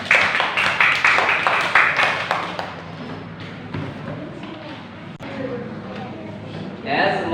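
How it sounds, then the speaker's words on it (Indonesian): Classroom students clap together for a group, with a dense, loud burst of rapid claps for a couple of seconds that trails off into voices and murmuring in the room. "beri tepuk tangan untuk kelompok 2"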